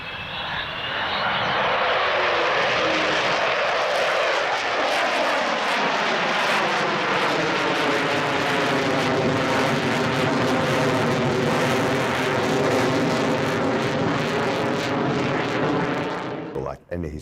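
A Cold War era aircraft's engine runs loud and steady, a dense sustained roar with droning harmonic tones that holds for the whole stretch before cutting off abruptly at the end.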